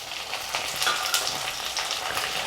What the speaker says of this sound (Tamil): ஒரு 5லேருந்து 6 பீஸ் முந்திரி சேர்த்து முதல்ல இதை கொஞ்சம் நேரம் வதக்கலாம்.